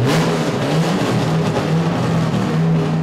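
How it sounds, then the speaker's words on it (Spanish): The engine of a historic Falcon race car, kept at a racing museum in Concepción, Tucumán, revs loud and close, a sustained throaty roar with wavering pitch and no talk over it. "Los motores de los autos, como el emblemático Falcon de Estéfano, aún pueden ronronear como en sus mejores momentos"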